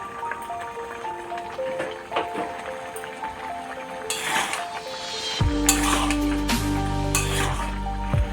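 Fried chicken pieces dropped into boiling chilli sauce in a pan give a bubbling sizzle with clinks of utensil on metal, growing louder and denser in the second half.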